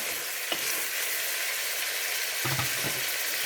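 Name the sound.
frying onions in a pan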